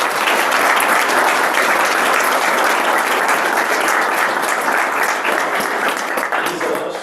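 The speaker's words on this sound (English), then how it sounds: "round of applause" An audience at a tech and startup speaker event in New York gives a full round of applause. The clapping is dense, loud and sustained, and it fades slightly toward the end.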